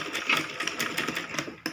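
A sewing machine stitches a kids' lehenga choli in a short, fast, rattling burst with light ticking, heard close with no talk.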